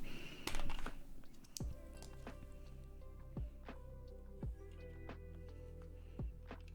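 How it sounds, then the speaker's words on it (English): Keycaps are pulled off an Asus hot-swap keyboard, producing sharp plastic clicks and snaps at spaced intervals over a faint steady hum, close and fairly quiet. "So, I'm gonna take off these keycaps and we'll see what's up."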